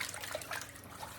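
Swiss chard is rinsed in sink water, a faint, gentle trickling and splashing close by with no talk.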